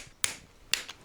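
Torque wrench clicking as engine bolts are tightened to 28 Newton meters during assembly of a Land Rover Discovery 4 SDV6 Ford Gen2 V6: two sharp, close clicks about half a second apart.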